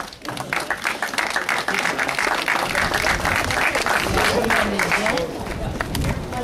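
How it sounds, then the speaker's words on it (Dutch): Dense audience applause fills the space at a public stage event in Tienen as a man is called up to the podium, steady and loud throughout with cheering and crowd voices mixed in. "Applaus voor Sally Flora."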